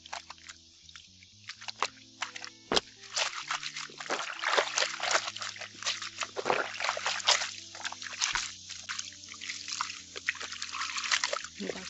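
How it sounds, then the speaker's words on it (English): Hand-washed clothes, including whites and jeans, are rinsed and wrung by hand in a basin, with close, busy sloshing, dripping and trickling water throughout and no talk. "Now we can just rinse this out"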